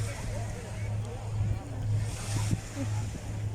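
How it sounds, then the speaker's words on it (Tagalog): Strong ocean waves at the Kuwait City seaside surge and wash steadily under a rumbling low hum, with gusts of wind buffeting the microphone; a person talks briefly in the middle. "Ang lakas ng alon"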